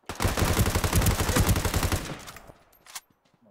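Sustained automatic gunfire from the online shooter Ring of Elysium rattles in a rapid burst for about two seconds, fairly faint and distant, then trails off with a single later shot.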